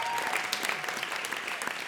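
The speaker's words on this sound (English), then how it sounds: "Good round of applause." A crowd applauding at a live outdoor event in downtown Los Angeles, a continuous even wash of many hands clapping at moderate volume with no voices on top.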